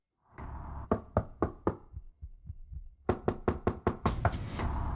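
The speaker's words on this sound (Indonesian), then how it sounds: "Ada suara di pintu, sudah selarut ini. Siapa yang datang?" Knocking on a door at night, close and loud: a rapid series of knocks, then a softer stretch of duller thuds, then another fast burst of hard knocks.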